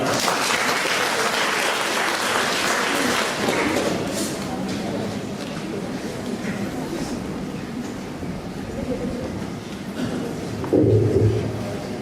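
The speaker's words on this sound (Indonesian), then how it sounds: "Kita beri aplaus kepada beliau." Audience at an Indonesian mathematics seminar applauds a presenter with a steady, dense wash of clapping that fades and thins toward the end.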